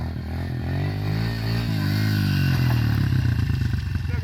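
A small dirt bike, a CRF125F or Piranha P125E, revs hard during a wheelie: a loud, close four-stroke drone that climbs and wavers in pitch, then pulses rapidly near the end.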